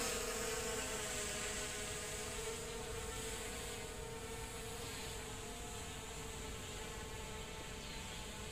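A continuous high-pitched motor whine of a small SJRC F11 4K drone in flight drones steadily throughout, small rotors buzzing, with a constant hum and no voices.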